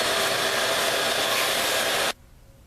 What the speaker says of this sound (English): I'm going to cut the biscuits